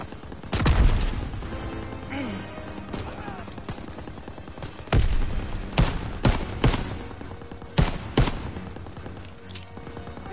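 Machine gun fire in Call of Duty WW2 combat, irregular loud bursts and sharp cracks scattered throughout amid a noisy battle soundscape, with shouting voices mixed in.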